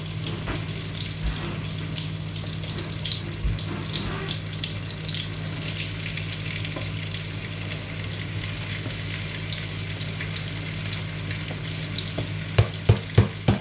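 Bolognese ingredients sizzle and fry in oil in a single pan, a constant crackling hiss under a low hum, with a few sharp utensil knocks near the end.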